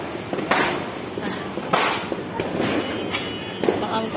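Firecrackers and fireworks going off on New Year's Eve, several sharp pops and bangs at irregular intervals, some near and some farther off, heard under people talking.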